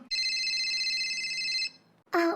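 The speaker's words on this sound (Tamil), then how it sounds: "ஃபோன் சுதாக்கா அட்டன் பண்ணி பேசினா" A mobile phone rings with a bright, steady electronic tone that cuts off briefly and then starts again, heard near and alone without talk.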